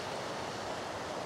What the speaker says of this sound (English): This is the lovely waterfall just before it enters the Rosa